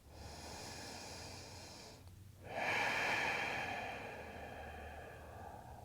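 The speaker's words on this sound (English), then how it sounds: "We just take another full breath" Slow, full breathing during a vinyasa yoga flow, a long airy inhale followed by a brief pause and then a louder, fuller exhale, close and quiet with no talk.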